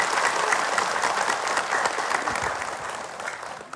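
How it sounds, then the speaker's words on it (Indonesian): Studio audience of women in colorful hijabs at a televised Indonesian religious talk show bursts into sustained applause, a dense steady clatter of many hands held near and loud for the whole stretch. "Boleh tepuk tangan Ibu."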